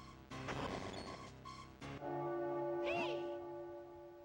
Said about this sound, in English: There are only 2 chimes left.